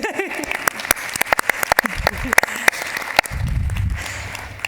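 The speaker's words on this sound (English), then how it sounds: "I'd like everyone to give Navi a special round of applause for doing a double header this morning" Scattered, fairly close handclaps from a small audience at a trauma-informed care session, a loose round of separate claps that thins out, with voices and rustling near the end.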